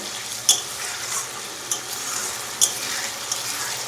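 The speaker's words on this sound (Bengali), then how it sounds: "মশলাটা কিন্তু খুব ভালোভাবে ভেজে নিতে হবে" A masala paste of cumin, coriander, garlic, ginger, chili and tomato fries in a pan for chicken curry, steady sizzling broken by a few sharp clinks of a spoon against the pan.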